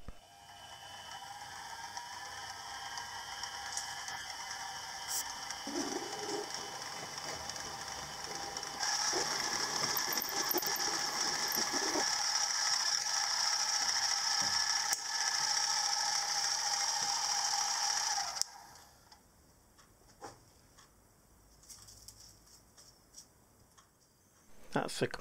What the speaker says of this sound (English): Now I can go in with the 1/4 inch end mill.